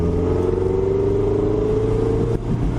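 A 2016 Mazda MX-5 Miata's engine drones loud and close from inside the car, its pitch climbing smoothly and then dropping abruptly as the revs fall away.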